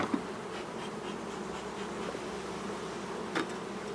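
Honeybees buzzing steadily as a beehive is opened, a dense continuous drone with a few nearer individual bees passing close, no talking.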